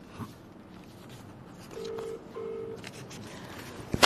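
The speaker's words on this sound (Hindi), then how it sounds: "जब तक ये फोन लगे" Two short steady telephone dialing tones sound in succession over low background murmur during a live press conference, each lasting about half a second, followed by a sharp click at the end.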